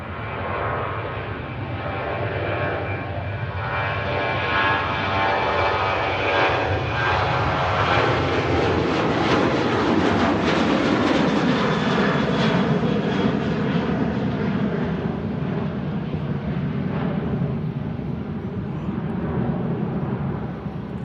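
Ryanair airliner departing Manchester Airport bound for Alicante, its jet engines roaring loud and steady throughout, swelling toward the middle as it passes, with no voices.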